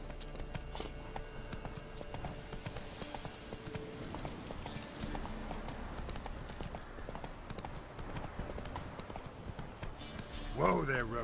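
Roach, Geralt's horse in The Witcher 3, clip-clops steadily at a walking pace across the whole stretch, hooves close and clear over a quiet game ambience, with a voice briefly heard and a brief sharp rise near the end.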